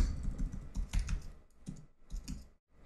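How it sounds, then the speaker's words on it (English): Fingers tap out a short command on a computer keyboard, a close flurry of quick key clicks in a few bursts with brief pauses between them. "So then we type Docker Compose"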